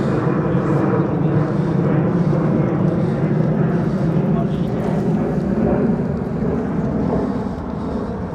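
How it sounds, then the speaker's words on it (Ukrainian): A loud, sustained low roar of a large military transport aircraft's engines taking off in Poznań, steady and rumbling throughout, fading slightly near the end. "це пішов військовий. На зліт транспортник видно, був такий шум"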